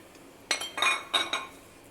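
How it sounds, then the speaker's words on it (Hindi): A spoon mixing chopped mango dessert in a bowl gives a few quick, close clinks and scrapes over about a second, soft and alone. "अब लेती हूँ मैं चम्मच, स्पून से इसको मिक्स करती हूँ"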